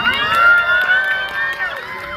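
Festival crowd at a Cheonan foreigners' festival and K-culture expo shrieking and cheering loudly for a performer, high sustained voices layered over scattered claps, close and continuous throughout.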